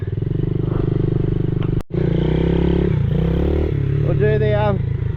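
A pit bike engine drones steadily at close range on a riding loop in Chinchilla, Queensland, dropping out for a moment, then revving on with rattles and scrapes from the ride.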